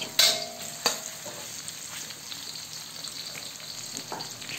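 Sliced red onion frying in oil as part of a bitter gourd dish. A couple of sharp clinks open a steady crackling sizzle that runs close and even throughout.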